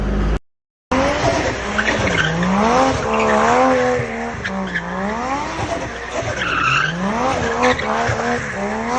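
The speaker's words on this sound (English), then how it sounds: "literally I did some donuts last night. I might insert the clip." A car spins donuts with loud, sustained tire squeal in wavering, rising and falling howls, the engine roaring underneath for several seconds after a short cut.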